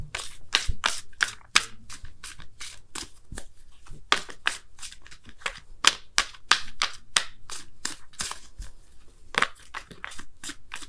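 A deck of Wisdom of the Oracle cards is shuffled by hand, a brisk run of close, crisp snapping riffles repeating in an uneven rhythm, with no talking.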